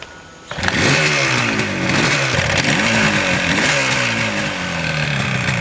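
A 1977 Yamaha RD400 two-stroke motorcycle engine fires up after a brief quiet moment and runs at a loud, close, raspy idle with a few small blips of revs.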